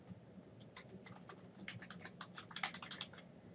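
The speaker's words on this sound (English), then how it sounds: "type the event" Keys clatter in an irregular run of light, quick taps on a computer keyboard while a calendar event is entered, fairly close and quiet, with the pace picking up toward the end and no speech.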